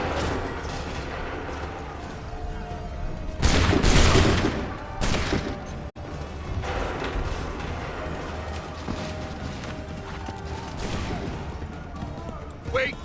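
A musket volley erupts in Assassin's Creed 3, a loud dense burst of massed gunfire around the fourth second with a couple of sharper follow-up cracks, set against a busy battlefield din of shouting and commotion.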